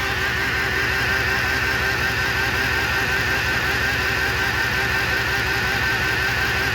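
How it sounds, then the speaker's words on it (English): An Impala car engine with a camshaft position sensor fault (codes P0340/P0341) idles steadily throughout, a constant low rumble with mechanical hum and faint rattle, close by, with no talking. "So I turned the engine off because I feel like I'm dying of exhaust fumes in here"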